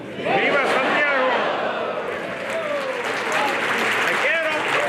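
Applause breaks out at a Krewe of the Knights of Sant' Yago coronation ball in 2018, honoring the Captain of the Knights. A full crowd claps steadily, with voices calling out over the clapping.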